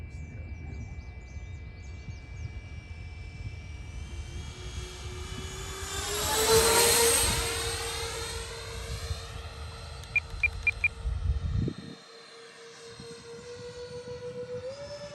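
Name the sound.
Freewing F-14 Tomcat twin 80mm RC jet flying an approach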